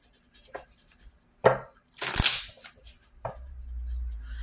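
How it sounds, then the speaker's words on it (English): A deck of tarot cards is shuffled in a few quick, crisp rustling bursts, close and fairly loud, with no talking over it. "Let's put them back in, do a couple of shuffles"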